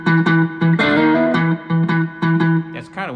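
Distorted amplified strums on a three-string cigar box guitar, about seven short snapped chords in a steady rhythm with brief gaps, each ringing bright and buzzy before cutting off, with a quick slide at the end.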